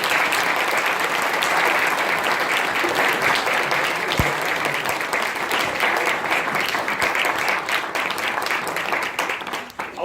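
An audience applauds at the end of a Christmas testimony story, a loud, sustained crowd clapping that holds steady for about ten seconds and dips slightly near the end.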